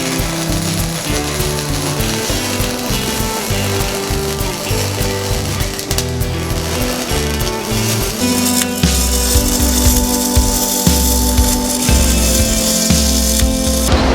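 MIG welding on steel parts for a homemade box blade for a utility tractor gives a continuous, dense crackling buzz with a slight shift in tone partway through, close and loud, with no talking.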